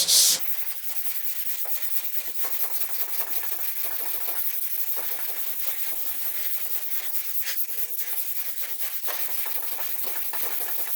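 Hand block sanding of polyester primer on the top radius of a 1940 Ford body: steady, close abrasive rubbing that runs continuously with slight rhythmic strokes, alone without any talking.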